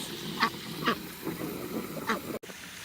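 Farm ducks in a flock of waterfowl at a pond give several separate quacks over the steady rush of a hose filling the water.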